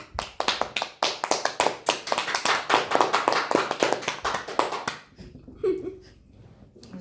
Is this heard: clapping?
yes